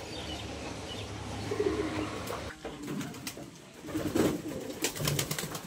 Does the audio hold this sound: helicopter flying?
no